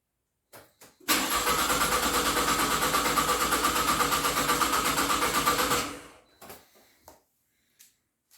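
A 2009 Pontiac Vibe 2.4 engine cranks and runs for about five seconds in a loud, steady rumble, then shuts off, with a few faint clicks and knocks before and after.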